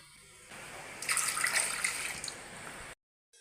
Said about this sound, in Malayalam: ഒരു ഗ്ലാസ് വെള്ളമാണ് ഒഴിക്കുന്നത്